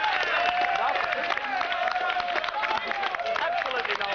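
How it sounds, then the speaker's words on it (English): A television studio audience on a panel game show applauds and cheers in a dense, continuous wash of clapping, with voices rising over the crowd noise. "Well, I think that Crystal deserves a round of applause for that word."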